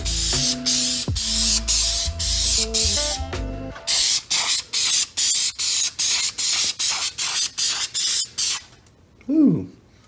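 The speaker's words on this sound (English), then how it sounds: "Let's hit it with that clear coat." Clear coat hisses from a spray can onto 3D printed emblems in a series of short, even, regular bursts, close and fairly loud, with a faint squeak near the end.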